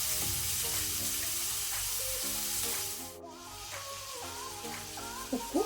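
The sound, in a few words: onion frying in cooking oil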